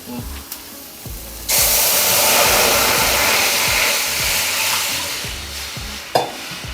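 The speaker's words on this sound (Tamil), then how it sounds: "பெருங்காயம் பூண்டு போட்டாச்சுங்க அப்புறம் ரசம் தாளிச்சிடலாம்" Asafoetida and garlic frying in a pan to temper rasam give a steady, loud sizzle that bursts up sharply partway through and runs on, with a fresh crackle near the end and no talking.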